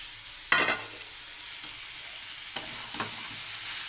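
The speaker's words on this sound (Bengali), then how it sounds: "আমি এখন একটা চিংড়ি মাছটা দিয়ে দেবো" Prawns dropped into hot oil in a pan and stirred, giving a steady close sizzle with sharp bursts of spitting and scraping at intervals, no talking.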